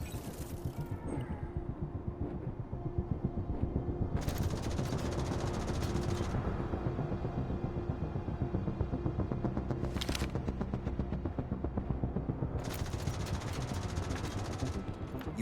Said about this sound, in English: You must learn to anticipate the time windows when the turret stops firing.